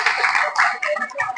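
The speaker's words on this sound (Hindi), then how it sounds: "एक बार तालियां हो जाए सर जी के लिए" Listeners at a teacher-training lecture in Khairagarh give a brief, close burst of clapping for the speaker, with uneven pulses of hand claps.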